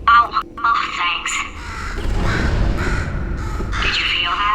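A crow caws a few times up close early on in Portal 2, then sharp cries give way to heavy rumbling and mechanical noise, with a voice speaking over much of it.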